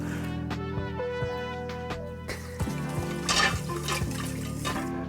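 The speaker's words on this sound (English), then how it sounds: "To that, I'm gonna add this much water." Water poured from a measuring cup into a pan of granulated sugar on a home stovetop, a steady close liquid splash and trickle lasting several seconds with faint kitchen clatter.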